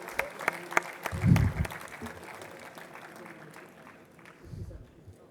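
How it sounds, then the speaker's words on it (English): A conference hall audience at an annual industry conference applauds a 92-year-old honoree. The clapping is dense and crackly, with a few louder bursts, and gradually thins toward the end while faint voices sit underneath. "he really deserves a huge round of applause"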